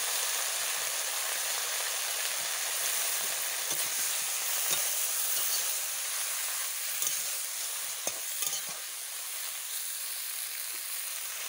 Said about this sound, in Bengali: পালং শাক আর বেগুন একসাথে রান্না করব।